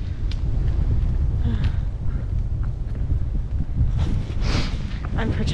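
Steady, loud wind buffets the microphone on a chilly Appalachian Trail morning near Hogpen Gap, a constant rushing roar with a few gustier swells and no break throughout.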